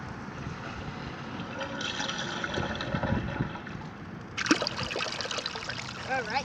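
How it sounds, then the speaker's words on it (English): Water from a homemade toilet flushing outdoors rushes and trickles steadily, with a brighter gush of running water partway through, moderately loud and continuous throughout. "Alright, this is the last flush."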